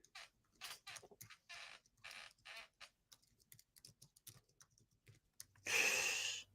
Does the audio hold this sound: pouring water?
no